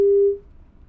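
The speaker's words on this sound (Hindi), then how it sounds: "शरद जी का भी फोन कट गया" A telephone busy tone after a call cuts off: one steady electronic beep, loud and clear, lasting about a third of a second, then fading into quiet line hiss.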